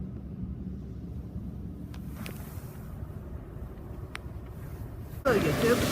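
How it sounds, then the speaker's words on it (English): Inside a Mark VII SoftLine car wash tunnel at a snowy Shell station, a low continuous machinery rumble holds steady with a few faint knocks, then a louder burst of spray and hiss rushes in at the end. "That's the Mark 7 SoftLine system."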